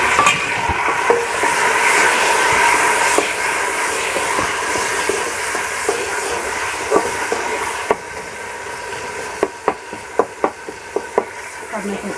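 Tomatoes dropped into a pan of browned onion and garlic for an achar ghosht gravy hiss steadily, with a run of sharp pops and crackles in the later part.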